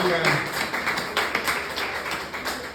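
A church congregation claps for the Lord, a dense run of close, steady clapping that fills the space, with voices audible beneath it.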